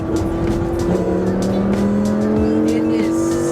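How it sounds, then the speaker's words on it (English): A Lamborghini V10 engine roars loudly and steadily, its pitch climbing and shifting through gears, with a voice faintly audible beneath the engine noise. "having like the Lamborghini V10 behind you, it just sounds so good"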